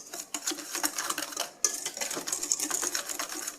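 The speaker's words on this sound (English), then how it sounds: "combine all the dry ingredients apart from the konjac flour, and it's best to do this with a whisk" Dry ingredients including coconut flour whisked in a bowl, a fast, steady scratchy rattle of wire against the bowl that keeps going throughout at close range, pausing briefly midway before starting again.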